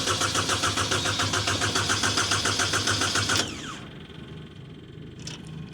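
A diesel engine on used equipment at an auction runs with a fast, even pulsing rhythm for about three seconds, then cuts back sharply to a quieter idle.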